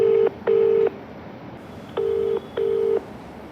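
Keypad tones of a telephone number being dialed to place a call, four steady beeps of differing pitch in an uneven rhythm, clear and close with no talking over them.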